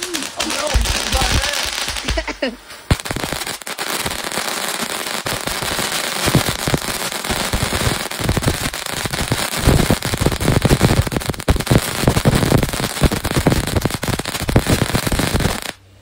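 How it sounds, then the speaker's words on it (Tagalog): Kwitis firework rockets bursting in different colors at a New Year's Eve celebration, a long run of dense crackling pops and sharp bangs, loud and continuous, with voices faintly under the noise. "Ito guys yung susunod na, ito talaga paputok na to. Yung parang quitis. Ibang kulay yan."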